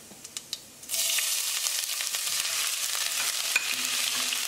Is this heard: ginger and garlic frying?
yes